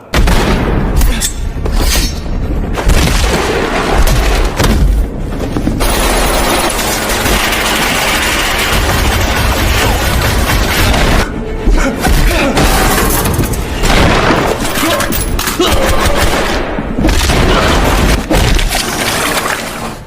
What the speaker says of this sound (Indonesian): semua pasukan langsung menembakinya yang membuat pertarungan brutal tak terhindarkan lagi